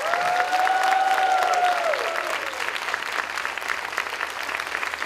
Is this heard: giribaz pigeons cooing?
no